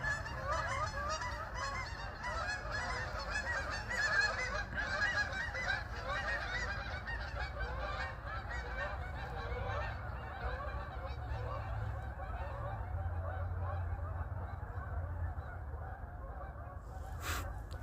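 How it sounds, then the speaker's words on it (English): A large flock of birds, likely geese, calling outdoors: a dense, steady, unbroken chorus of honks and chatter that sounds moderately distant and continues throughout, with no voices. "Look, birds, so many birds."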